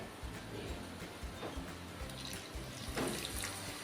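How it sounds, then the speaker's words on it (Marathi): Water is poured into a pot of clam masala, giving a soft, continuous trickle and splash, fairly faint and heard alone. "आता ह्यामध्ये आपल्याला घालायचं आहे थोडंसं पाणी आणि जे वाटण्याचं पाणी केलं होतं ना तेच मी घालणार आहे"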